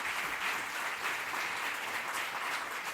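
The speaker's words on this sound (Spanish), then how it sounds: "Un aplauso para ellos." Steady, continuous audience applause fills a panel event on theatre and gastronomy, dense and even from start to finish with no voices over it.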